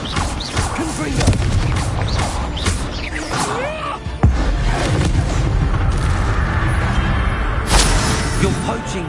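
Confringo blasting spell explosions in Hogwarts Legacy, loud booming blasts and crashes in a dense battle din, with a sharp heavy impact midway and another near the end, voices faintly mixed in.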